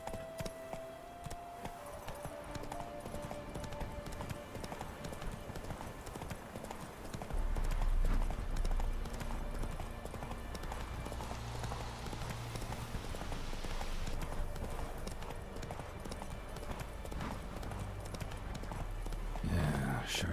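Horse hooves clip-clop in a steady rhythmic gait in The Witcher 3 video game, continuous and fairly close, with a voice briefly heard and game ambience underneath.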